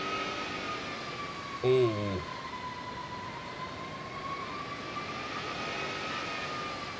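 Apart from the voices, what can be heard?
Airbus jet engines growling in a flight simulator video game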